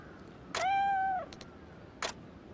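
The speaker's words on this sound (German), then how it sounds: "ein schönes Fressgeräusch, das überhaupt nicht so klingt, wie eine Katze normalerweise frisst" A cat in the game Yakuza Ishin eating fish, rendered as a loud, clear meow with a falling pitch, then a few soft clicks and a short burst of noise, with no voices.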